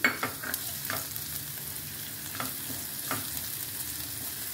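A small onion frying in a pan with cumin seeds, a constant close sizzle with occasional stirring clicks and scrapes, no voices.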